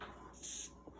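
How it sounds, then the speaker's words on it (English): A short hiss of an aerosol can spraying, a single burst of under a second over quiet room tone. "Always shake your aerosol cans, yeah. Okay, yep. And just push the button and spray away."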